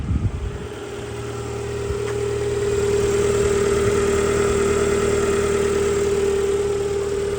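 A used car engine idles steadily for the whole stretch, a low continuous hum with a faint mechanical drone, close and even, with no voices over it.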